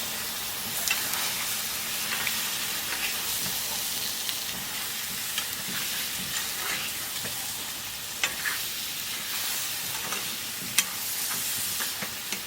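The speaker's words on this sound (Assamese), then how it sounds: "এতিয়া অলপ ভালকৈ লৰাই মেলি দিব" Steady sizzling of chicken masala frying in a wok, with occasional scraping and clinks of a spoon stirring, continuous throughout with no voices.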